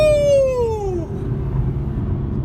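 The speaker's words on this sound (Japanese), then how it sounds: "ちょっとエンジン聞いてみましょ" BMW M4 engine heard from outside as the car pulls away, a loud tonal rev that falls in pitch over the first second, then settles into a low steady rumble.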